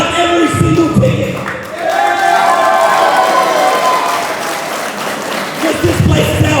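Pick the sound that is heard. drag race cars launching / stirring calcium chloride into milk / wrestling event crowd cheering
wrestling event crowd cheering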